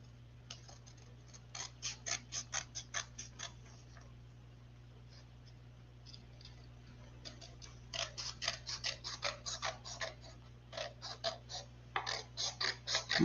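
Scissors trim paper for a card envelope in quick bursts of crisp snipping, with several short clusters of cuts separated by quiet pauses, close and fairly soft.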